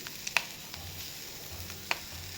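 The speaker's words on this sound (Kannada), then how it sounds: "ಇದಿಷ್ಟು ಇವಾಗ ಚೆನ್ನಾಗಿ ಫ್ರೈ ಮಾಡ್ಕೊಳ್ಳಿ" Ginger and broken green chillies frying in oil for pani puri masala, a soft steady sizzle with a couple of sharp spits and pops, faint and alone with no talk.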